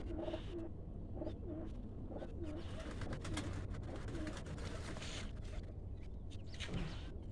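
Pigeons coo in soft repeated low phrases close by, under a constant background hum and rustle, with bits of faint chirping and no clear talking.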